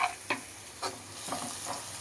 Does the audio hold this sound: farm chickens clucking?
no